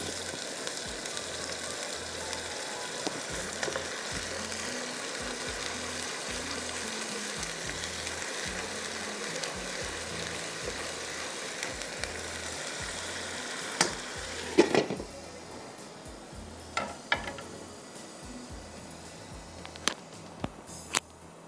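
Marinated chicken frying in a pan for a Dhaka-style roast, with a dense, continuous sizzle and crackle for about fifteen seconds, after which it drops quieter, broken by a few sharp utensil knocks, with no speech.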